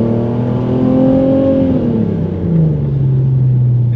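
An Audi TT Mk1 with the 3.2 V6 engine revs loudly from inside the car while driving, the steady drone rising in pitch, then falling through a gear change before pulling again.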